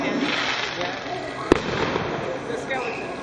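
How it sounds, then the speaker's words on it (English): Halloween firecrackers going off in the distance on the night of October 31, with one sharp crack standing out over faint crackling and a low background hum, and people talking nearby. "You can hear the firecrackers going off everywhere."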